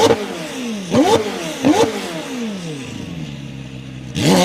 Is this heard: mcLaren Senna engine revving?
yes